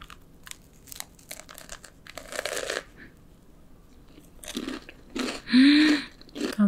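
Crisp bites and chewing of a crunchy air-fried pastry with salted caramel pecan and double cream cheese come in close, sharp crackling bursts, the loudest near the end, between quiet pauses.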